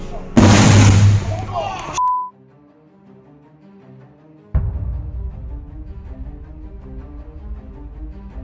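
A burning power pole explodes in Preston with a loud, sudden burst followed by a short high tone. After a brief near-silence, a sharp crack gives way to a lingering rumble.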